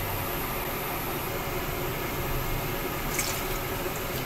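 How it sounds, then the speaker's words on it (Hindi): Water is poured into tamarind in a kitchen to make a puree for a Bengali sukta, giving a steady, even splash and trickle that runs throughout with no talking. "थोड़ा सा पानी डाला है मैंने"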